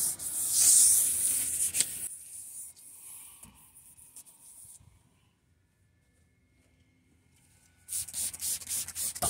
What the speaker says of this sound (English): Usually when wet sanders are wet sanding, you don't hear it too much like that.